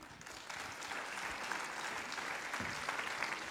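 Steady applause from an audience at the 2011 Guadeloupe sports awards ceremony, a dense, even wash of many hands clapping at moderate, slightly distant volume with no talking.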